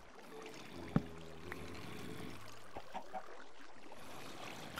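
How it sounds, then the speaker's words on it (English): A waterfall in Minecraft gives a continuous, soft rushing hiss of falling water at low volume, broken by a few faint clicks and thuds. "what is up with this waterfall?"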